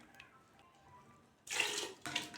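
Water rinsed from a mixer jar splashes and pours into a cooking pot in two short bursts, the first longer, the second briefer, close by after a quiet moment.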